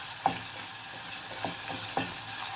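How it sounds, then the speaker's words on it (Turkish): Tomato paste sizzles in a pan with red pepper, black pepper and salt, a steady close frying hiss broken by a few soft scraping stirs of a spoon. "Bunları bu şekilde birazcık daha kavuracağım."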